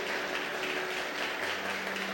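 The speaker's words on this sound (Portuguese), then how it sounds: "Se você puder, aplauda o Senhor, em nome de Jesus, irmão." Soft, steady applause from a church congregation, a broad hiss of clapping hands that holds evenly throughout with no voices on top.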